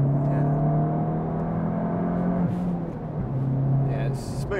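A Fiat Punto GT's engine hums steadily while driving, with a sustained low drone that rises slightly in pitch as it accelerates, heard from inside the cabin, with a brief bump partway through.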